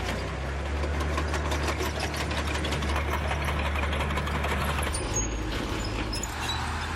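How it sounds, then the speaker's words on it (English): A German StuG III tank fitted with a modern engine runs at a steady low rumble, loud and continuous throughout with no talk over it. "This German Stug 3 is equipped with a modern engine,"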